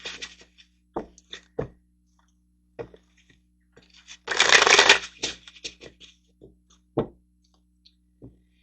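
Tarot cards handled close by, with scattered soft taps and flicks of cards and one dense riffle shuffle lasting under a second in the middle, no talking.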